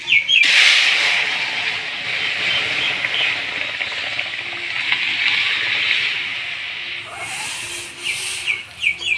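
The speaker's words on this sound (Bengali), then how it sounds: "এবার ডাল দিয়ে দিব।" Chickpea lentils (chana dal) with jackfruit going into a hot pan of spiced oil, setting off a loud burst of hissing, spattering sizzle that settles into a steady close frying hiss, then flares again near the end.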